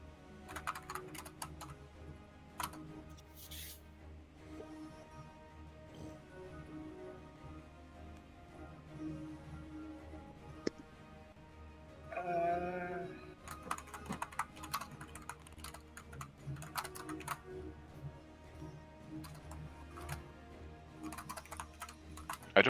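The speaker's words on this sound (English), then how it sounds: "I don't like how long you've been typing." Typing on a computer keyboard during a tabletop role-playing game session, bursts of quick key clicks with pauses between them, fairly close and moderately loud, alone without talking.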